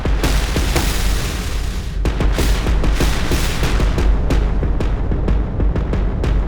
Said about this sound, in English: So if you need war booms